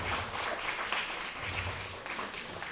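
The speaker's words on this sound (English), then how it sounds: "Round of applause for my main man, Mission Smith." Faint, distant applause from an audience at an epilepsy awareness event, a soft continuous patter of clapping with low murmuring underneath.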